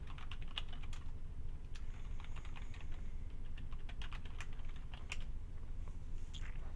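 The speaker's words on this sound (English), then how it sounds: "Go ahead and type in your user account." Someone types a user account name on a computer keyboard: quiet, irregular clusters of keystroke clicks, close by, with no talking.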